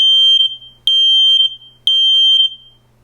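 Nest Protect smoke alarm running its self-test: three loud, shrill electronic beeps at a steady, even rhythm, each about half a second long and separated by short gaps, heard close up with no voices.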